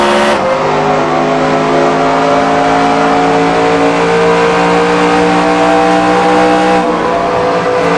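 Race car engines roar steadily in NASCAR Racing 2003 at Chicagoland Speedway, a loud sustained whine of several cars at full throttle with layered engine tones, alone with no talk.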